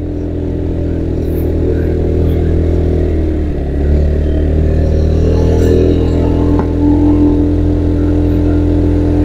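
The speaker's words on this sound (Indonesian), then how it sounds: "ada motor yang gak kuat nanjak itu kayaknya" A nearby motorcycle engine drones loudly and continuously, revving slightly as it struggles to climb a steep uphill road toward Mount Telomoyo, Indonesia, without clear changes in pace.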